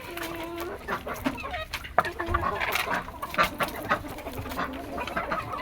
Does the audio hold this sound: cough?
no